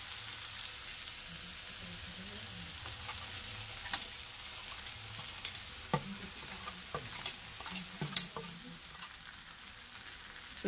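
Roasted semolina is stirred into a pan of sautéed vegetables for upma, giving a steady soft sizzle with a run of scraping spatula strokes and light clicks, close and moderately loud, with no talking.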